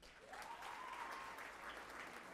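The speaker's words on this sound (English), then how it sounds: "Give him a round of applause." Applause at a university innovation festival awards ceremony greets an award recipient, a brief, even burst of crowd clapping heard from a distance, faint and steady throughout.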